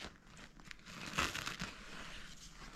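Paper is crinkled and unfolded to free a small protective pouch for EKOI Perso Evo 8 sunglasses, a quiet run of close crinkles with a brief louder rustle midway, and no voices.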